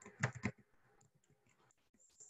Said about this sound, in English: and then you'll begin typing